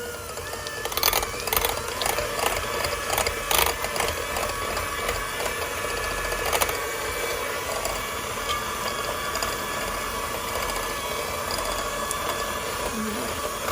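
An electric hand mixer whips frosting for espresso brownies in a bowl, a continuous close mechanical whir with rattling beaters and a few sharp knocks early on, running steadily without speech.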